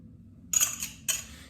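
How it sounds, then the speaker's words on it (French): Two short bursts of metallic clinking from a utensil against a bowl while sugar and three egg yolks are mixed for a galette des rois. The clinks are close and quiet, separated by a brief pause. "je viens mélanger le sucre et les jaunes d'œufs afin de les faire blanchir"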